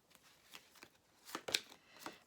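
Tarot cards are drawn and shuffled, making a few soft, quiet riffling and sliding flicks that come in brief irregular bursts, with the loudest pair near the middle.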